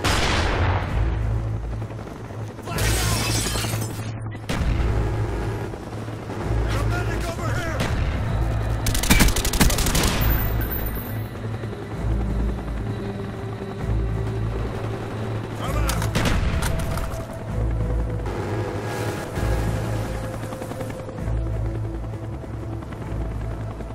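A Cobra attack helicopter's rotor drones throughout a Call of Duty: Black Ops demolition match, while bursts of gunfire and a few heavy blasts crack over it, loud and continuous, with brief voices now and then.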